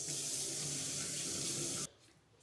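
A kitchen tap runs steadily as hands are washed, a loud, close, continuous gush of water that cuts off abruptly near the end, leaving a faint room hush.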